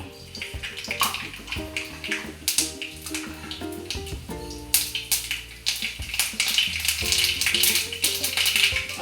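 Mustard seeds spluttering in hot coconut oil for a Kerala-style spinach thoran, a dense, steady crackle of pops and sizzles heard up close with no voices.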